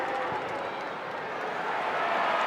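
Loud, steady roar of a big football crowd at an AFL match, Carlton v Port Adelaide, cheering and applauding continuously after a late kick as the Blues close in on victory, with the noise building slightly toward the end.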